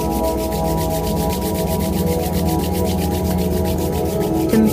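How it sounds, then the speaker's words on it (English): Palms rubbing together during a meditation, giving a steady, close, continuous swishing friction with fast regular strokes, loud and alone without any talk. "Rub your palms together."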